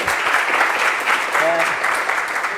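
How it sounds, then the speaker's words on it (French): A crowd claps steadily for a couple of seconds, with a short whistle-like tone rising briefly in the middle. "On peut applaudir."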